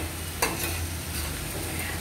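Corn gets tipped into a thick simmering desi corn curry and stirred, with one sharp clatter from the spoon at the start followed by a soft, continuous sizzle and bubbling.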